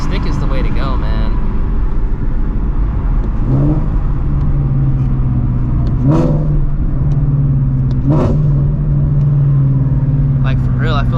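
A straight-piped Shelby GT350 pulls hard from inside the cabin, its loud raw exhaust climbing through several gears with distinct shift breaks, while a person talks over the engine throughout.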